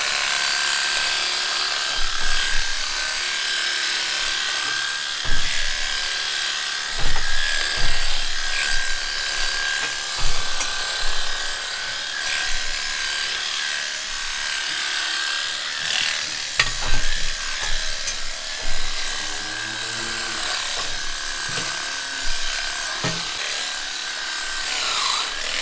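Electric clippers buzz and rasp through a cow's coat, with repeated strokes and scraping bursts over a steady hum and no talking.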